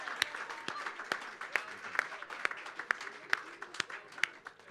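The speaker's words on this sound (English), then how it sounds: "Another big round of applause, please," Sparse, distinct hand claps from a small audience at a community center dedication ceremony, greeting a singer, each clap sharp and separate over a soft room murmur, fairly quiet and somewhat distant.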